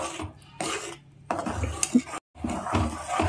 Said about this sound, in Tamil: இதில் மாவு போட்டு கிளற போகிறோம்